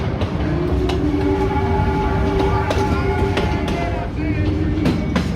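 A small amusement park train at Kings Island during Winterfest rumbles along steadily with faint rhythmic clatter and some nearby crowd chatter, the noise continuous and close throughout.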